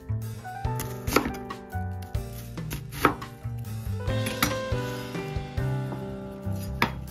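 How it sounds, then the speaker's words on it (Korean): Knife slicing 50 g of onion into thin strips on a cutting board, firm rhythmic chops landing in quick bursts, close and clear with no talk, for a winter moray-eel (mulmegi) soup. "양파 50g을 채 썰어줍니다"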